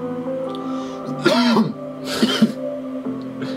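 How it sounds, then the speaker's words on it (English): A person clears their throat and coughs in two short, close bursts over a steady background hum, with no talk. "Still coughing."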